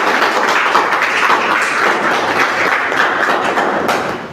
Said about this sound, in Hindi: आप जोरदार ताली बजा दीजिए एक बार